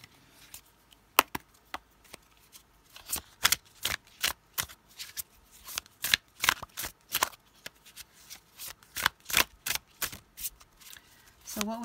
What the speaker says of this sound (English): Ooh, I love how these cards shuffle.